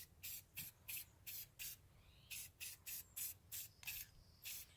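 Varathane clear coat is sprayed from an aerosol can onto a painted rock in short hissing bursts, about a dozen quick sprays in an uneven rhythm, close and fairly quiet.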